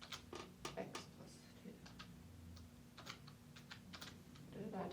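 Fingers tap out irregular bursts of keystrokes on a computer keyboard, quiet and close, with short clusters of clicks separated by brief pauses.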